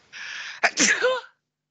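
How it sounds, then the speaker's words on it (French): One sharp human sneeze: a drawn-in breath builds for half a second, then a sudden burst and a trailing voiced exhale, close and loud in an otherwise silent room. "Qu'est-ce qui te fait éternuer, dis-moi?"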